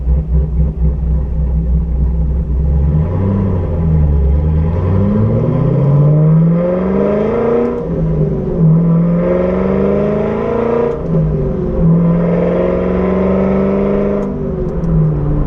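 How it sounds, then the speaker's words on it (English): A C5 Corvette with an aftermarket exhaust revs to about 3,500 RPM while driving toward a freeway with the windows closed. The deep engine drone rises and falls through several loud rev-and-shift sweeps, sustained throughout with no talking. "that's actually the first time I've revved it that high so far with this exhaust"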